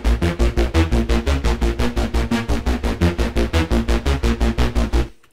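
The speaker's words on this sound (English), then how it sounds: "Some of my personal favourite sounds in this pack are the ARPs" A neurofunk arpeggio synth patch made in the Vital synthesizer pulses in fast, even repeated notes, about five per second, heard alone until it stops abruptly.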